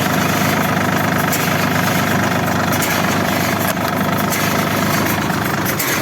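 A tractor-mounted STAR 2000 round baler runs steadily beside the tractor's engine, giving a loud, dense mechanical drone with constant rattling and no pauses.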